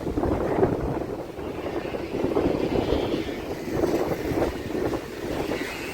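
Rough sea waves surge and crash onto the shore in strong wind, a dense, continuous churning roar with repeated swells. Heavy wind buffets the microphone, and no voices are heard.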